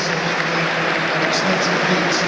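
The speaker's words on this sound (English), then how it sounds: "Packed Tottenham Stadium applauding the efforts of Dominic Solanke" A packed Tottenham Stadium crowd at a Europa League football match against Bodø/Glimt applauds in a dense, steady roar of clapping, loud and unbroken throughout.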